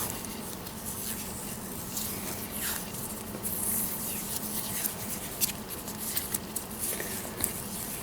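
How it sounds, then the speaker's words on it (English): Electrical tape is wrapped around a cut stem piece for a DIY net hook, a soft continuous rubbing and crinkling with small ticks and tugs of the tape, close and quiet, no voices. "I'm going to wrap it with some electrical tape as well."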